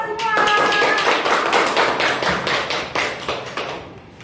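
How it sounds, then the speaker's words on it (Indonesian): Students in a classroom clap after finishing their presentations, a brisk, close burst of hand claps that fades out after about four seconds. "Kasih tepuk tangan untuk kita"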